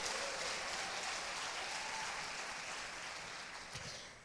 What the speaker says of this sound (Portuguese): aplauda ao Senhor mesmo